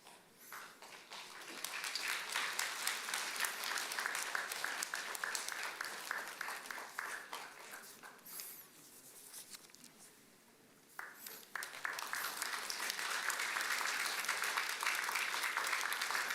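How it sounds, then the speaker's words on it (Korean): Church congregation applauding award recipients during a Sunday worship service, a sustained wash of many hands clapping that swells, dips briefly near the middle, then resumes full and steady to the end. "다시 한번 수상하신 모든 분께 축하의 박수를 나눠주시기 바랍니다"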